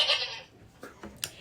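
Goats bleat, opening with one drawn-out, wavering call followed by a few short, fainter bleats spaced apart.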